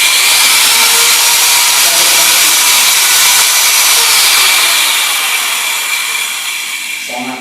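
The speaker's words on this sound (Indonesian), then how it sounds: "mesin gerinda ini colokannya terhubung dengan arus listrik, terus langsung berputar" An electric angle grinder, just plugged in, spins up into a loud, steady, high-pitched whine that holds for several seconds and then starts to wind down toward the end.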